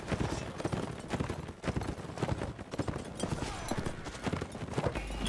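Horse hooves clip-clop in quick, dense, continuous beats through a battle in a video game, loud and up close, with a faint mix of other game noise and no clear speech.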